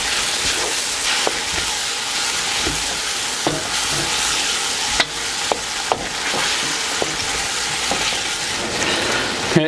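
Stir-fry sauce bubbles and sizzles steadily in a hot pan as a whisk works through it. A constant loud hiss runs throughout, with occasional clicks and taps of the whisk against the pan.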